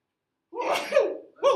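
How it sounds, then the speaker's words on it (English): A single person sneezes once in a classroom, a loud burst with a sharp onset followed by a brief second release. "I have a sneeze that wants to come."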